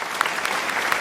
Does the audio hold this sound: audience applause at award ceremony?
yes